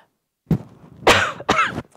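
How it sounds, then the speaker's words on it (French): A quick sharp cough, then two forceful coughs in a row after a brief pause, close up with nothing else around them. "c'est de prendre une inspiration profonde, de bloquer et d'aller tousser 2 fois"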